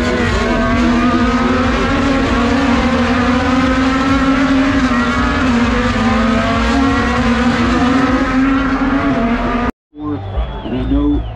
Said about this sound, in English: here they go to turn one, under braking, a little accordion behind third place